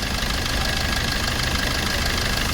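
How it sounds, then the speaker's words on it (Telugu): A Maruti Brezza's engine idles steadily at a used-car lot, giving an even, continuous hum with faint knocking texture and no voices. "ఇంజిన్ అయితే సౌండ్ చూసారు కదా"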